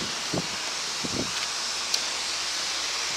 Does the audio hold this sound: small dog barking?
no